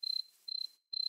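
Cricket chirps from a Minecraft game, three short rapid trains of high, thin pulses separated by brief gaps, heard alone and fairly close.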